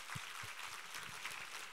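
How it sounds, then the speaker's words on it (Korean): A church congregation at a Sunday worship service claps together, a faint, distant, continuous patter of applause with a few heavier rhythmic beats. "우리 하나님께 감사와 영광의 박수를 올려드리겠습니다."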